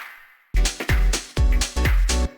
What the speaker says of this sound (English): he'll have like kind of a reverb or a clap with a lot of reverb on it like this